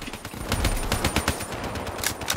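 Man O' War rifle fire in the Black Ops 3 multiplayer game, rapid bursts of close gunshots in quick succession across the whole moment, loud and with no talk.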